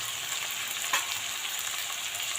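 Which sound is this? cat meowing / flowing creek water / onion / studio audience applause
onion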